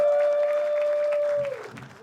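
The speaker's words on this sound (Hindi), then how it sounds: "जोरदार तालियां" A comedy show audience breaks into brief applause. The scattered claps run under a steady electronic tone and fade within about two seconds.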